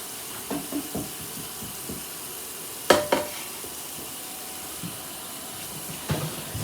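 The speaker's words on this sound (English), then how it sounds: "We drain our shrimp and run it under a nice cold water bath." Cold tap water runs steadily over drained shrimp in a kitchen sink, a soft continuous stream broken by a few clinks and splashes, with no talk.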